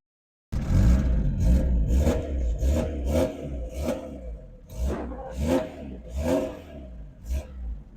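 A Lada Zhiguli car engine revving just after starting, loud and close, with a steady idle rumble broken by repeated throttle blips that rise and fall in a rough rhythm while it warms up.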